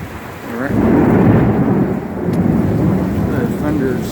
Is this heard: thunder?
yes